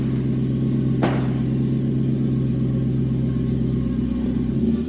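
A decatted BMW M3 idles from a cold start, a steady loud low rumble throughout with a brief sharp click near the start and a slight drop in tone at the end.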